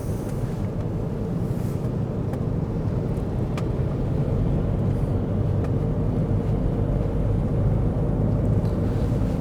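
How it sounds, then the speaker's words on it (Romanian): Continuous road rumble of tires rolling on asphalt, heard from inside a moving 2020 Ford Kuga ST-Line X SUV, steady and fairly loud throughout. "picăturile și roțile pe asfalt le aud foarte bine."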